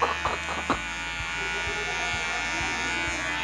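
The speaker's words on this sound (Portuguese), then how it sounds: "quando você estiver ouvindo ainda o som da máquina cortando, está no caminho certo" Electric hair clippers buzz steadily while cutting hair for a fade in a barbershop, a close continuous hum with a few faint clicks near the start and light speech underneath.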